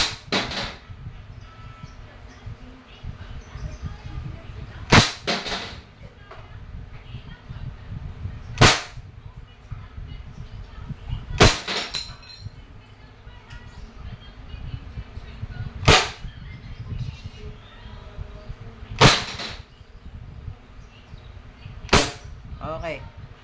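Crosman Phantom P10 non-blowback BB airgun pistol firing seven sharp, spaced shots over a low background hum, each a crisp snap standing out clearly.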